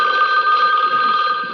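A telephone bell rings in a 1973 film scene, a steady, insistent ring with two bright sustained tones filling the whole moment, loud and close with no voices over it.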